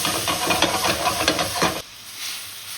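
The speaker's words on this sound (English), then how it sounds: "Hit it with white wine. Let it steam and deglaze the" Loud hissing sizzle and bubbling as white wine hits a hot pan to deglaze it after browning chicken, with some stirring scrapes, then dropping abruptly to a quieter simmer near the end.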